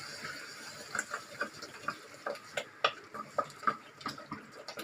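A spoon stirs potato pulao in a cooking pot, making light, irregular scraping and clinking taps that are quiet and close.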